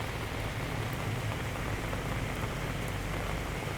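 Heavy rain pouring steadily outdoors over a swollen riverside area after days of rain, a dense, even hiss with no pauses, alone without voices.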